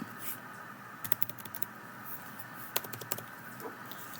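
Light tapping of a computer keyboard while a file is renamed, a sparse run of soft clicks in a quiet room, close and steady with no talk.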